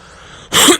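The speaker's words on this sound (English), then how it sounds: "Just a little dry cough here and there" A single short, dry cough bursts out loud and close after a stretch of quiet room tone.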